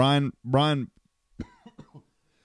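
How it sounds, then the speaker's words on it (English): Two loud, harsh coughs sound close together, then someone briefly speaks a word. "Uh-oh, watch out, I'm coughing."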